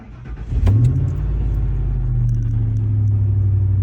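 A used car's engine cranks briefly and catches, then settles into a loud, steady low idle rumble heard up close with no talking.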